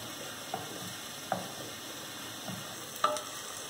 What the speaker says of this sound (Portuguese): Vamos dar uma murchadinha nessa cebola aqui